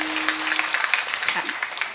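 An audience at a women's kirtan festival claps, many hands in a lively, uneven patter heard close, while a voice speaks over the start.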